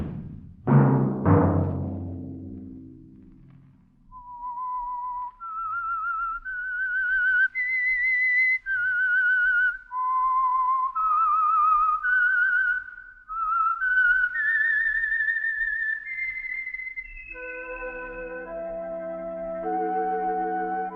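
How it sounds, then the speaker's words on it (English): A melodic theme tune for a radio program is whistled clearly and alone, held notes rising and falling, after a brief burst of sound at the start and sustained tones at the end. "Let that whistle be your signal for the Signal Oil program"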